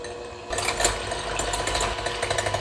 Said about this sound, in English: I'm just gonna use my hand mixer and use the beaters